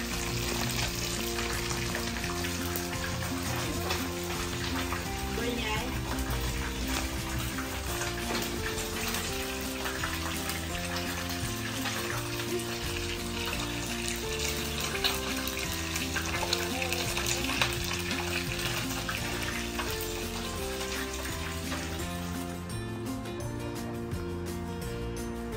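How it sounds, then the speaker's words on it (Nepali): Fresh fish fries in a pan with a continuous, loud sizzle and crackle that holds steady throughout, close by, with faint background activity. "मछली फ्राई हुँदैछ"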